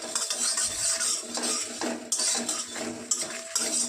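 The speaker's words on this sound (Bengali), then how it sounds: "গোটা জিরে, ধনে, 2 শুকনো লঙ্কা, এলাচ, দারচিনি আর জয়িত্রীকে আমি একটু ভেজে নেব শুকনো কড়াইতে" Whole cumin, coriander, dried red chillies, cardamom, cinnamon and mace tossed in a dry wok produce close, bright clattering and scraping as a utensil stirs them in repeated bursts.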